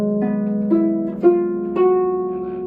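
Concert pedal harp playing an audition excerpt with pedal changes, a series of plucked notes and chords entering one after another at steady intervals, clear and close with no talking.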